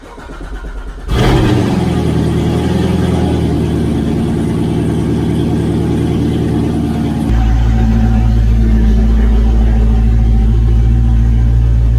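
A Z06 sports car engine fires up loudly, then drones and revs steadily up close while driving, the pitch shifting as it settles into a deeper, heavier roar.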